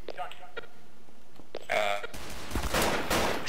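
Bursts of gunfire in Garry's Mod, a quick volley of shots followed by sustained loud rapid fire, with someone talking and clearing his throat between them.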